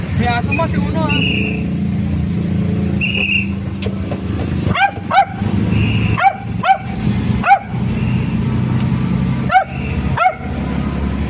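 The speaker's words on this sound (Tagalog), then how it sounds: "May aso mo, si Uno ah." A dog barks several times in short sharp yips, close by, over the rumble of a car interior with people talking in Filipino.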